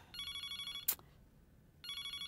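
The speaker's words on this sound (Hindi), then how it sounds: "फोन बज रहा है, देखो तो कौन है।" A telephone rings in two bursts of electronic trilling separated by a sharp click and a pause, clear and close in a quiet indoor room with no talk.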